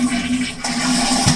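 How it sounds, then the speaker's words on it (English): A household toilet flushes with its water supply turned off, a loud rushing gush that briefly drops off and then surges again as the tank empties. "flush your toilet"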